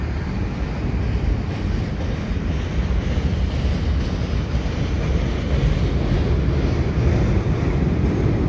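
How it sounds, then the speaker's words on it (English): CN 527 freight train rolling over the St Patrick Street Bridge, a long cut of cars producing a steady low rumble and rattle with wind buffeting the microphone, constant and fairly loud throughout. "This is certainly a longer train than I thought"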